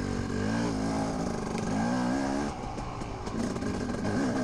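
Dirt bike engine racing through a hare scramble course at Cassville, loud and close with rising and falling revs, gear changes and a steady harsh drone throughout.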